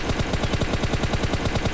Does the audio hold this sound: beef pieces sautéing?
no